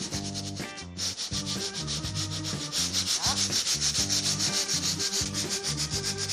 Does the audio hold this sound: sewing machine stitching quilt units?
no